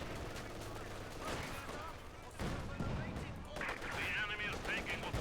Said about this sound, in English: Field gun shoots, misses the field gun.